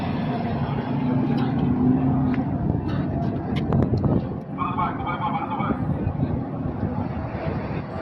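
A city bus in Dubai pulls up to the stop outdoors, its engine rumbling under steady wind noise, with a brief hiss near the end as it halts; someone talks throughout.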